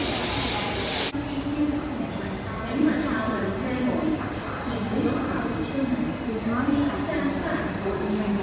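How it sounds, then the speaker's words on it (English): A train at Mong Kok East Station gives off a loud, steady rumble that runs throughout, starting with a brief sharp burst, while voices and announcements carry over the top. "Now let's spot some trains."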